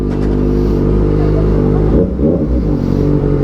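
Kawasaki ZX4RR motorcycle engine idling and revving up close, a loud steady drone with harmonic layers that surges briefly near the end, alone without talk.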